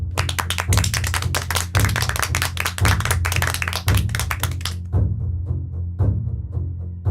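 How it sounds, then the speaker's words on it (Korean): Police officers applaud a lecturer in a 1987 setting, a dense burst of clapping with a steady rhythmic thump underneath, thinning into scattered claps near the end. "경찰 간부들이 강사의 강의에 수고했다고 박수를 친다."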